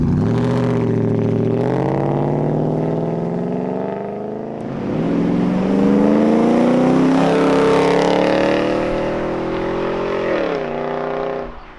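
A Mercedes E500 W124 with a loud aftermarket exhaust on a test drive, its V8 engine note rising and falling through repeated revs and shifts, close and strong throughout, with no talking.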